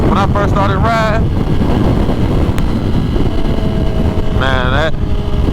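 Highway wind on a Kawasaki ZX1 motorcycle, a constant loud rushing roar buffeting the microphone, with rising engine whines briefly cutting through near the start and end.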